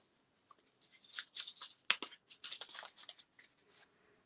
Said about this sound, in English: So take your seeds out of the packet.